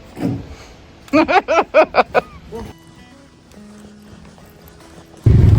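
A horse on a trail gives a rapid series of loud, rising neighs in a quick burst, followed by quieter background sounds and a sudden loud rumble at the end.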